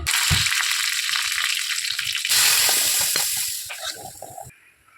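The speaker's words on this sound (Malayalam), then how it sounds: "നമുക്കിനി ഇതിൽ കടുക് വറുത്ത് കൊടുക്കാമേ." Mustard seeds crackle and sizzle loudly in hot oil for tempering a dal curry for an Onam sadya, a dense continuous frying hiss with popping that fades near the end.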